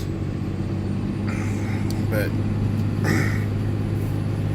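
A 2006 Dodge Ram Mega Cab with a Cummins turbo diesel drives along with a steady low engine drone and road rumble throughout, while someone talks briefly over it.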